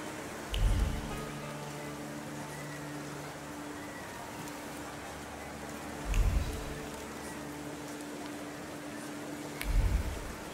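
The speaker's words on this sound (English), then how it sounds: "And now it starts to rain." Steady rain hiss in the video game The Thaumaturge, a soft continuous wash broken by three low, thudding bumps spaced several seconds apart.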